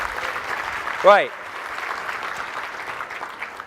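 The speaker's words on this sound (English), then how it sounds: "Can we have a round of applause for the speakers and the SEO Mods team from yesterday?" An audience claps at the MozCon 2012 conference, a steady even patter of applause filling the room throughout, with one brief spoken word from a man near the start.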